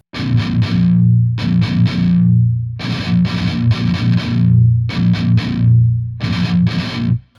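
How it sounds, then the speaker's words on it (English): A heavily distorted electric guitar chugs out the repeated rhythm chord pattern of a song in loud bursts separated by brief pauses, with no talking. "And then the rhythm guitar comes in and sounds like this."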